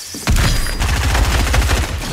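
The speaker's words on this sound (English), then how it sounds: "Just try and shoot him down with the rocket launcher." Loud, close rapid-fire shooting in a Fortnite match forms a dense rattling volley that starts abruptly and runs for about two seconds.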